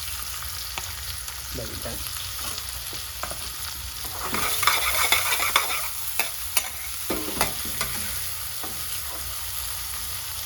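Garlic and onion fry in a pan with a steady sizzle, broken by close scraping stirs and louder bursts midway; a voice briefly speaks over it.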